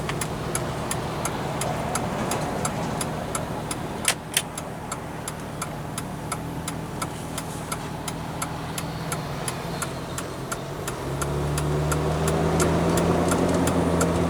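A Nissan Cefiro A33 with a repaired automatic gearbox idles steadily in first gear. Its engine drone is accompanied by a fast regular ticking, and the note deepens slightly toward the end.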